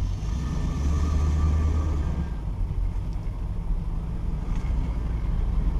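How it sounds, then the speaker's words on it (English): A 1971 Pontiac Grand Prix V8 engine runs steadily nearby, with a deep, continuous low-pitched rumble and slight throttle swells, heard alone without talk. "Really good sounding engine."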